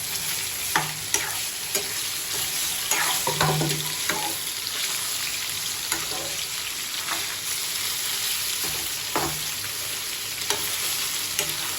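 Chicken for a Sunday chicken fry sizzles steadily in a pan while a spoon scrapes and stirs it in irregular clinks and scuffs, close and moderately loud, with no talking.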